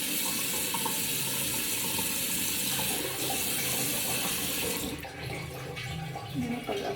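Running water flows steadily from a tap while a hair mask is being applied, a continuous watery hiss that thins out near the end with some light handling sounds.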